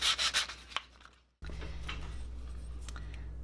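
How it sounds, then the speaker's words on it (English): Sandpaper rubs over small steel enameling blanks: a few quick scratchy strokes, a short pause, then a steady, close rasping scrub under a low background hum. "I'm going to clean these up a little bit with some sandpaper"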